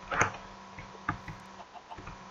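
Minecraft chickens cluck in short, sharp bursts, one louder near call followed by several fainter scattered clucks and ticks in a quiet game scene.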